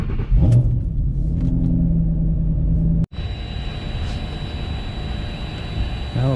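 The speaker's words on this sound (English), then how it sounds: "Cold start time." A 2018 McLaren 720S cold start: low engine rumble, then a sharp click and the engine catches, settling into a steady loud idle with a faint high whine.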